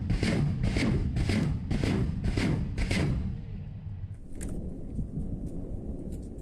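BM-21 Grad rockets strike on a front line: a rapid string of six heavy, booming impacts in steady rhythm, rumbling and distant, fading into a low tail with faint crackling afterward.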